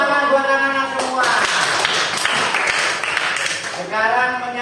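Children in a classroom clap together in a short burst of brisk applause, with a voice talking just before and right after it.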